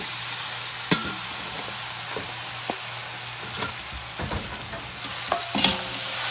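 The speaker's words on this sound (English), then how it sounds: "After you put the leaves, you don't need to cook very long" Mustard leaves being stir-fried in a pan for Indonesian fried noodles, a soft continuous sizzle broken by scraping stir strokes and occasional clacks of the utensil.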